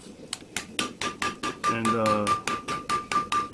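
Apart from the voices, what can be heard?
dog head hammer forging a knife handle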